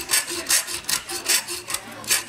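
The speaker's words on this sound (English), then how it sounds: "the next thing we want to do is file off the sharp edges of the slugs" A hand file rasps across the sharp cut edges of metal slugs sawn from bolts, in steady back-and-forth strokes, about seven in a row, close and moderately loud with no talk.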